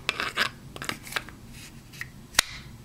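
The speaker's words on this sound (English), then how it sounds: "You hear that thing clicking in." Brous Silent Soldier knife pushed into a Kydex sheath, giving several short close scraping rubs and a sharp click near the end, alone with no talk.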